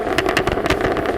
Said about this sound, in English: that exhaust sound is really the best noise going on here